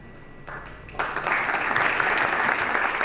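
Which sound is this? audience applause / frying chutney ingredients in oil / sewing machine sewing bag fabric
audience applause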